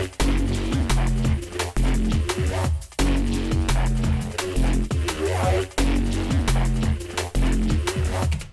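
A Vital synth lead layered over a heavy drum and bass synth bass plays in a loud, dense repeating pattern, with gritty low notes pulsing rhythmically and bright upper tones on top, no voices.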